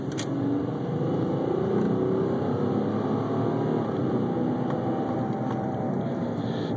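A steady engine roar from a 2001 Malibu while driving holds a constant, fairly loud drone with no breaks and no talking.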